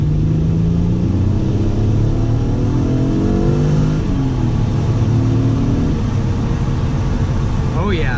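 A tuned 2-liter turbocharged car engine, run on Megasquirt at about 5 pounds of boost, revs up steadily in rising pulls with a shift partway through. It is heard from inside the car, loud and continuous, with a voice talking over it.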